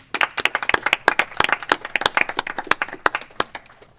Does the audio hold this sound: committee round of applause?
yes